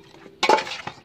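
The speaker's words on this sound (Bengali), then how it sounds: "মাথাগুলো হলুদ লবণ দিয়ে মাখিয়ে নিচ্ছি" Fish heads from rohu and silver carp being tossed with turmeric and salt in a metal bowl using a spatula, giving a quiet stretch followed by a burst of clinking and scraping, then a few lighter taps.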